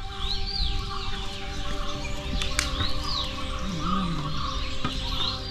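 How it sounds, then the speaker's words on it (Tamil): Wild birds call and chirp steadily outdoors in the Velliangiri Hills, with repeated warbling whistles over a constant ambient hum; no talking. "எல்லாம் வந்து காட்டு பறவைங்க."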